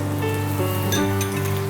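Butter melting in a hot pan gives off a steady close sizzle, with a few light metallic clinks partway through; no one speaks.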